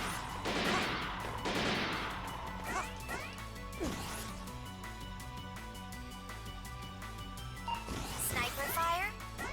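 Sniper gunfire in the Mighty No. 9 video game, several sharp shots and crashes with whooshing game effects over a looping music bed, with a voice talking between them.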